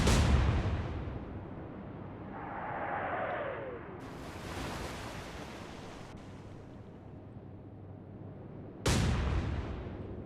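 Warship guns firing in a naval combat game set in the Atlantic, with broadband booms at about four and nine seconds over a steady sea-like rumble.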